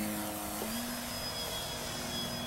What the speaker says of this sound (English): So this is half throttle.